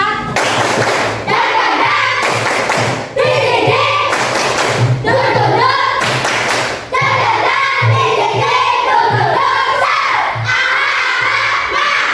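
A fourth-grade class of schoolchildren in an Indonesian classroom performs a rhythmic clapping chant, loud bursts of hand claps alternating with shouted group cheers and thumps, repeating in energetic waves for about twelve seconds.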